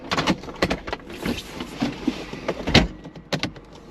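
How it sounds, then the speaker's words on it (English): Electric convertible roof of a Mazda MX-5 NC 2.0 Sport being lowered, heard as a close run of whirring motor bursts, mechanical clunks and latch clicks over about four seconds, with no talking. "I'm about to put the roof down."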